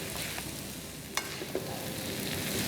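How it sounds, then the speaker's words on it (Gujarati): A spoon gently stirring Schezwan fried rice with vegetables and sauce in a hot pan, a soft steady sizzle with a couple of light scraping knocks, close and alone. "ધીમા હલકા હાથથી આપણે એને હલાવી લઈશું."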